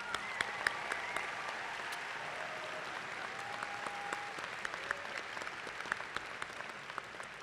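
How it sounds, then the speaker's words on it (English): Crowd at a high school graduation ceremony gives a sustained round of applause for a retiring teacher, a steady, fairly distant wash of many hands clapping with scattered sharper claps and faint voices mixed in. "let's give Sandy Shelton a round of applause"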